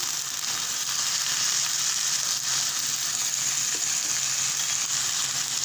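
Garlic frying in a hot pan while potatoes cook, giving a steady, loud hiss and crackle that runs unbroken throughout, with no voices.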